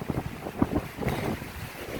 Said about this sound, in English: So as you can see, it's really windy